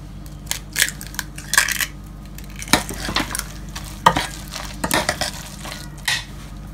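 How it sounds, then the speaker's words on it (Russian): Two eggs are cracked into a bowl of grated potato and onion for hash browns, giving a string of sharp taps and small wet cracks over a steady low hum, with no talking. "И сюда же разбиваем 2 яйца."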